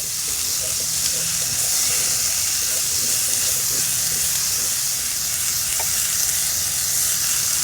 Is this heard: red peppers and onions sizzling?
yes